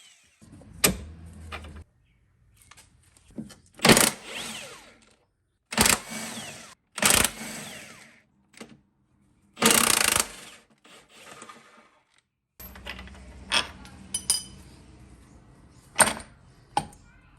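A strut nut is unscrewed on a C5 Corvette suspension while a vise grip holds the threaded shaft, producing intermittent close metallic ratcheting bursts and clanks with quiet gaps between them, then a busier stretch of clicks near the end.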